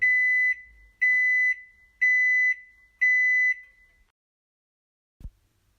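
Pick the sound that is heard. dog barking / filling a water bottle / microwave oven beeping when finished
microwave oven beeping when finished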